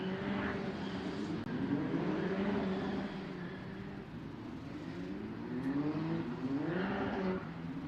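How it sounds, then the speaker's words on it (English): Formula Regional single-seater race cars of the Middle East Championship roll out to the starting grid, several engines droning and rising and falling in pitch as they pass, a steady loud mechanical wash with no talk. "The cars making their way to the starting grid for the third race of Formula Regional Middle East Championship"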